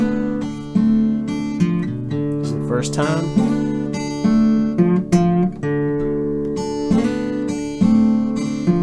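Delta blues guitar in double drop D tuning, played with repeated string bends in a loose, ringing phrase that stays close and steady, with a brief voice heard once.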